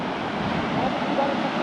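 Sea waves break against rocks on a rough coast near Trivandrum. The roar is continuous and broadband, with a wind-blown rush and no distinct breaks.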